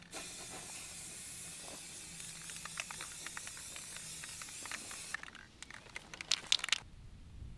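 An aerosol spray can hisses continuously onto a shooting target outdoors, a long steady spray followed by a few shorter bursts and crinkling, close and fairly faint.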